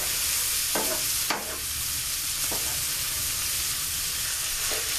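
Mushrooms and onions sautéing in a pan for smothered pork chops, a loud continuous sizzle with a few brief scraping stirs of a utensil.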